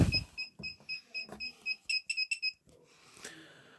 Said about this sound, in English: When connected to gas, you will hear a slight ticking